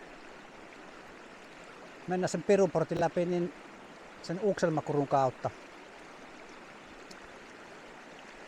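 A river stream runs through a rocky gorge in a Finnish national park, a steady broadband rush of water that continues throughout while someone speaks over it in two short bursts.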